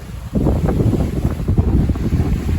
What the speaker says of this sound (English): we got some wind against waves up here